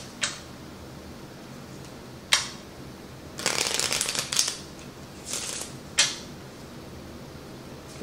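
Lenormand and tarot cards shuffled by hand: a few sharp single snaps, then a longer riffling burst and more quick flicks, close and crisp in a quiet room.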